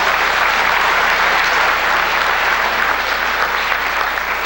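An audience at a public hearing of a Korean medicine association claps loudly and continuously, a dense, even wall of applause from a large crowd with no voices over it.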